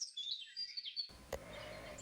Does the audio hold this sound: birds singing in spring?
yes